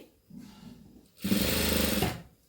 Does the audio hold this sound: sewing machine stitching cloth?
yes